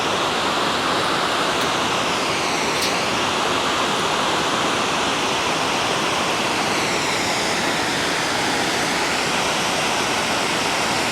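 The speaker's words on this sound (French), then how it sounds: "une belle cascade" A mountain waterfall on a torrent in the Manaslu region roars with a loud, constant rush of falling water close by, with no voices.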